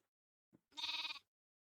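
A goat-like bleating creature in a Minecraft modpack lets out one drawn-out, buzzy bleat of about half a second, preceded by a brief soft grunt, set against near silence.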